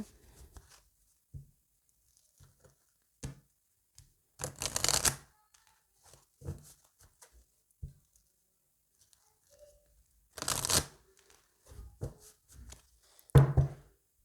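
Oracle card deck being shuffled and cut by hand, with several short papery riffles and flutters scattered among near silence, close and fairly quiet.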